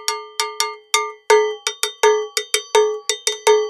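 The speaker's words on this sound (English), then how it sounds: "So that's your cowbell that comes in this set" Small cowbell from a world-rhythm percussion set, struck with a small stick in a lively syncopated pattern; each bright metallic clank rings close and loud, then decays quickly.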